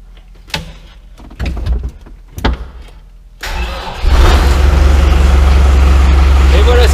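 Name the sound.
tractor engine starting with key and starter booster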